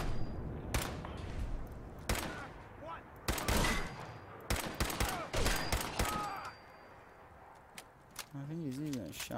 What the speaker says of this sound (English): I think he's using a shotgun on me